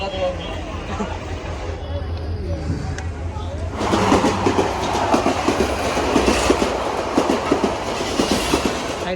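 A passenger train runs on rails between Gaibandha and Santahar, heard from inside with a steady rumble. Partway through it swells into louder rhythmic clickety-clack under a murmur of passenger voices.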